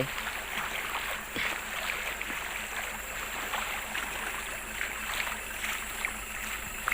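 Strong floodwater rushes in a steady, dense roar, a fast stream forceful enough to knock a person off their feet, heard up close with no talking.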